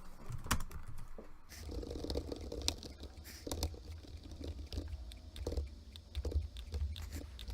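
Keys clatter in steady, uneven bursts as code is typed on a computer keyboard, faint and close with no talking.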